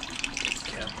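Antifreeze drains out of a Yamaha YZ250F engine in a steady splashing trickle, a continuous liquid pour heard close up for about a second.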